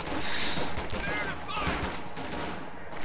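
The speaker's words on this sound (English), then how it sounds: "the AT gun is taking shots at the Lux" Anti-tank gun in a video game firing at a Lux light tank, a dense run of overlapping battle shots and bursts that stays loud throughout, with some voice mixed in.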